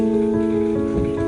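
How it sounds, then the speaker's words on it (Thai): Steady rain falls in a mountain setting, a loud, close, continuous patter on surfaces with no talk. "วันนี้ก็เป็นวันแห่งฝนตกนะคะ เนี่ยฝนกำลังตกเลย"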